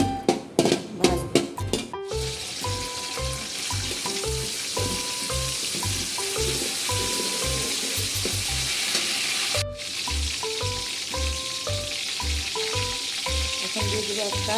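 Bay leaves, cinnamon and whole spices frying in hot oil, a broad steady sizzle that runs under loud rhythmic background music with a thumping beat and melody.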